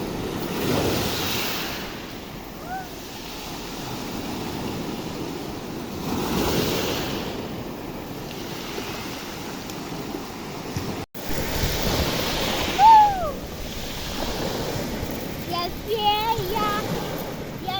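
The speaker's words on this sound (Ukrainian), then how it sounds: "Зараз я так близько сіла до води, зараз дочекаюся першої хвилі." Ocean waves surge and wash ashore in slow, repeating swells, with strong wind buffeting the microphone and occasional faint voices.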